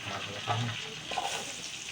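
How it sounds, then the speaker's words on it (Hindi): Onions dropped into hot ghee for a junglee pulao hiss and sizzle steadily in the pan, a close, continuous frying crackle with a faint voice underneath. "घी गर्म है, तो इसी में हम ऐड कर देते हैं प्याज"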